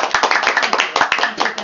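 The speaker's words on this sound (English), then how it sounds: "Everybody, round of applause for Nephew." Close, lively hand clapping from a small group, quick and uneven, filling the whole moment without a break.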